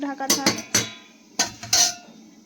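A metal lid goes onto a cooking pot of chicken curry with a handful of sharp clanks and rattles in two quick clusters, close by and loud against a quiet background.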